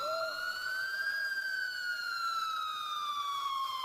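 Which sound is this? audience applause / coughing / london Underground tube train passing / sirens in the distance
sirens in the distance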